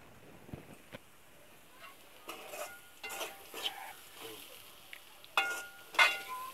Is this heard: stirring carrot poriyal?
yes